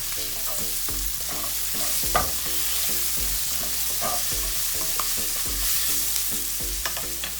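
Garlic and ginger paste fries in a pan for chicken jalfrezi, a dense, steady sizzle close up, punctuated by regular soft knocks of stirring throughout.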